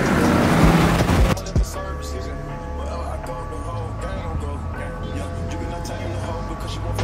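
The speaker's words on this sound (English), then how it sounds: "Oh, I love blow off valve sounds." On a Los Angeles street, a tuned car with a blow-off valve lets out a loud rushing hiss close by, followed by a lower engine drone and faint street noise, with voices in the background.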